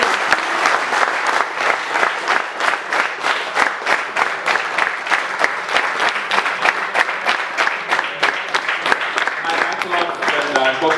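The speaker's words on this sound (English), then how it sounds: "One more round of applause" An audience at a trek talk gives a sustained round of applause, dense and fairly loud clapping that holds steady throughout, with some voices mixed in underneath.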